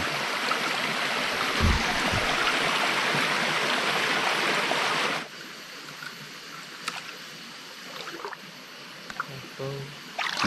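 Flowing stream water rushes loudly and steadily, then drops to a quieter trickle with scattered small knocks and clicks.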